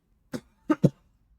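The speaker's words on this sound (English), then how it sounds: "I'm going to be coughing a bunch today." Three sharp coughs from a person nearby, one alone and then a quick pair, with quiet in between.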